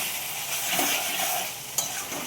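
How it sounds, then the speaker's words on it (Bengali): A paste of ground cumin, coriander and ginger is sautéed for ghugni with a bright, close hiss of frying. There is one short scrape of the stirring spoon. "দেখো ভালো করে কষিয়ে নিচ্ছি"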